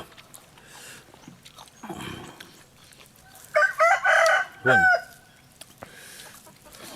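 A rooster crows once, loud and close, in a short burst over a quiet outdoor background with faint scattered noises.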